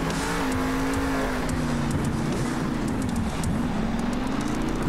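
El Toro Loco Black monster truck in Monster Jam Steel Titans 2 roars along a race course, a loud continuous engine drone with shifting pitch as it drifts around corners, steady throughout.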